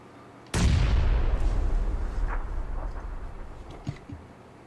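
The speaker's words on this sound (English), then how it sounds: "Press an LB, or if you're a PlayStation player, L1 I think it is, cocks a grenade, and it takes 5 seconds to blow up" A cooked grenade blowing up in PUBG on console: one sudden loud explosion with a deep rumbling boom that slowly decays, followed by a couple of faint distant pops.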